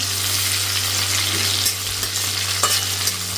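Chopped tomato, grated ginger and whole garam masala spices frying in a pan, a steady close sizzle with occasional utensil scrapes and stirring clicks, no talking.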